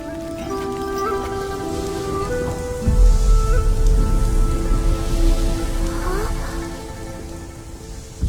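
Rain falls in a steady, close hiss across the whole scene, with a soft melodic music bed running underneath and the rain swelling louder partway through; no one speaks.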